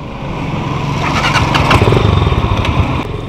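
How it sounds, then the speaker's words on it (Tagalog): A Honda Winner X motorcycle with an ECU problem runs steadily at close range, its engine putting out a loud, continuous throbbing idle with slight surges. "nakatakbo pa rin yung motor natin"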